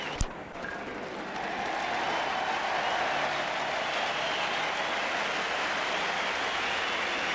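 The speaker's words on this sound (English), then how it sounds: "Applause from this big crowd for Graham Wood's 50" A big crowd at a 1981 World Series Cup cricket match in Australia applauds Graham Wood's fifty, with a sustained wash of distant clapping that swells after a brief sharp knock and holds steady throughout.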